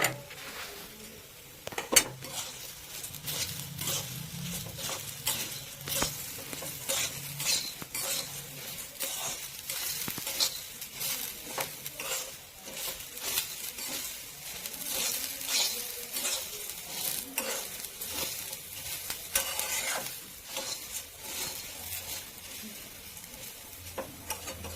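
Puffed rice is stirred with chopped coriander in a hot pan, giving a long run of close, rhythmic spoon scrapes and clatter over a soft sizzle, with no voices.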